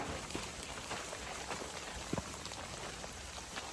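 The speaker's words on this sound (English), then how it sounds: "It's been raining all night." Steady rain patters on surfaces on the Appalachian Trail, a dense, even hiss of drops with a few louder splashes, fairly quiet and continuous.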